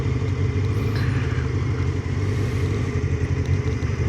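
A Honda CBR F3 motorcycle engine running while riding, a steady, loud, throbbing mid-low drone that continues without a break.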